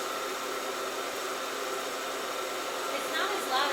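A home coffee roaster runs while it stirs the beans, a steady airy whir like a quiet vacuum cleaner that holds even, with faint sounds near the end.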